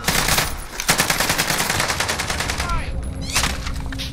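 Heavy automatic gunfire in a video game firefight, dense rapid bursts rattling almost continuously for four seconds, loud and close, with a brief gap near the start and in the latter half.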